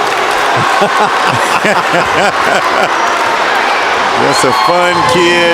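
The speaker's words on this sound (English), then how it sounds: "And you see the crowd go crazy for him." Basketball crowd at a high school game between Tulsa Memorial Chargers and Edison Eagles, roaring and cheering loudly for player Micah Heron, a dense sustained crowd din under a commentator's voice.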